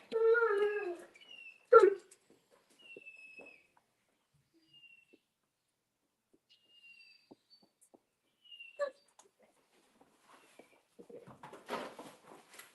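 Mastiff dogs being fed outdoors in the country give a few short whimpers and whines, the clearest right at the start, with faint bird chirps and quiet rustling in between.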